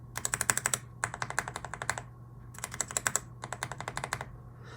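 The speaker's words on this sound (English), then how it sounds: "Starting off with the Gateron yellow, here's what they sound like." Gateron Yellow mechanical keyboard switches typed in quick bursts of crisp, close clicking keystrokes, several rapid runs broken by short pauses, with no talking.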